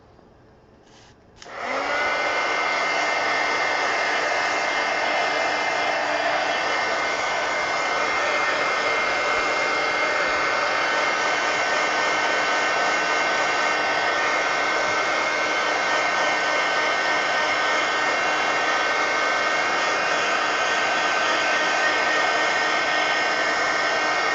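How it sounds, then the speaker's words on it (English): A heat gun switches on and blows a loud, steady whooshing roar over mixed media collage art cards, holding an even tone close up for the rest of the clip. "So heat gun."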